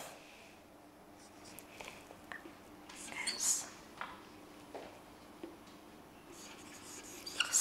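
Pen or pencil writing the word surf on paper, faint scratchy strokes in short bursts over a quiet background, with soft speech and whispering around them.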